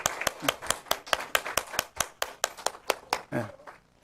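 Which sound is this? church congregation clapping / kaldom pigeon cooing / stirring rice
church congregation clapping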